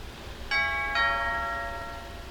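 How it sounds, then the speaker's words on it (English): Doorbell chime in the video game Lake, two bright ding-dong tones struck about half a second apart that ring on and fade slowly over a quiet background. "Ring that doorbell, Meredith."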